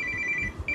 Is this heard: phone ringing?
yes